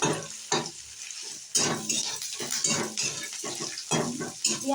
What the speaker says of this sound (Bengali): রসুন কাঁচা লঙ্কা তেলে ভেজে নেবে, আমি যেমন ভাজছি, দেখো ভাজছি এখনো।